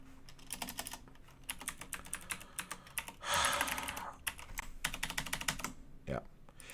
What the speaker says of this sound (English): I have to admit it's a gaming keyboard